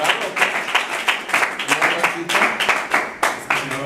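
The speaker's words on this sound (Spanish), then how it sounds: "les pido un aplauso para empezar" An audience claps at a success-story talk, giving bursty applause with uneven surges that rise and fade, close and fairly loud, with speech mixed in.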